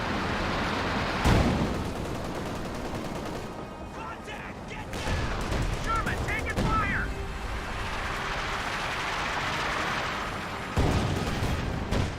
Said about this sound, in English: maybe that's the same siege barrage, just scattered very wide there